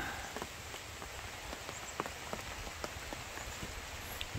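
Steady rain pattering on a surface over a bitter gourd field at harvest, with scattered louder drops and soft rustling in a continuous, even wash with no talking.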